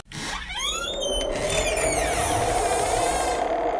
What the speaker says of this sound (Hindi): तभी तेज हवा से हवेली का बड़ा सा दरवाजा खुद ब खुद चरमराता हुआ खुल गया।